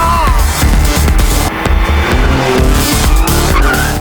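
Car tires squeal loudly and continuously through a swift drift, a dense screeching skid layered over a roaring engine, close and sustained with brief dips in intensity.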